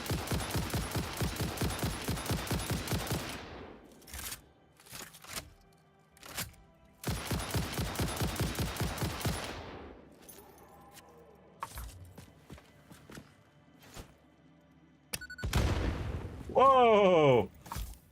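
Rapid automatic gunfire from shooting in the video game Satisfactory, two long bursts followed by scattered single shots, explosions and a rising whine near the end, loud and close.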